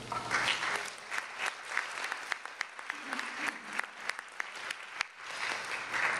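An audience at a college alumni nursing history event claps steadily for several seconds, a dense patter of many hands in a hall, fairly quiet and distant, swelling slightly at the start and end.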